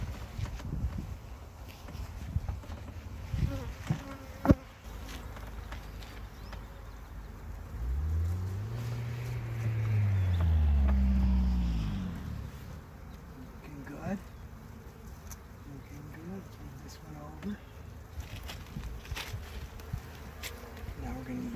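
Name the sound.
honey bees buzzing around an open hive frame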